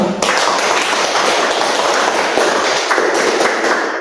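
A classroom group of students applauds together for the first presenting group, a dense, steady burst of many hands clapping that starts abruptly and continues evenly for several seconds, with no talk over it.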